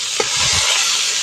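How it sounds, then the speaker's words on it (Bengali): Pointed gourd (potol) pieces frying in hot oil give a steady, broadband sizzle, with a couple of soft stirring knocks early on; no one speaks. "পটলগুলো ভাজা হয়ে গেছে, পটলগুলো এবার তুলে নিচ্ছি"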